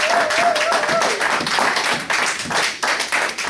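A church congregation at a Sunday service claps together in a dense, steady burst of applause, with a voice briefly heard over the clapping.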